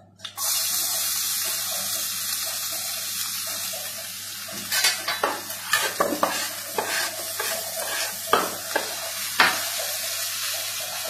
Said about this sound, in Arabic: نحطو في الكوالا ونحط البصل والثوم تاعي